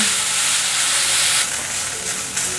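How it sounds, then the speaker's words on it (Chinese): Drained preserved radish stir-fried in hot oil in a wok, a loud, continuous close sizzle and hiss with brief swells as the pieces are tossed. "油热了，放入沥干水分的菜脯，快速翻炒，把菜脯炒香"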